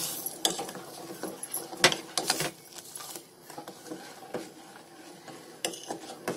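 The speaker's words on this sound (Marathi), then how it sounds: "आता त्याच्यामध्ये मी साखर टाकते आणि आता आपल्याला सारखं ढवळत राहायचं आहे" A spoon scrapes and knocks against a metal pot in an irregular rhythm as milk with sugar is stirred for homemade condensed milk, close up and moderately quiet.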